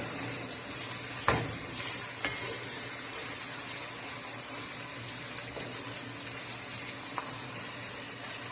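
A kadhi base for kadhi pakora fries in a pan before the spices go in, giving a steady, even sizzle with a few soft clicks of a utensil, close and with no talk.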